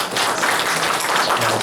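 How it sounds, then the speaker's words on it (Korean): A church congregation clapping to congratulate members on upcoming birthdays, a short, even burst of steady applause filling the room. "우리 이광자 집사님, 박강란 집사님 미리미리 좀 한번 박수로 축하합니다."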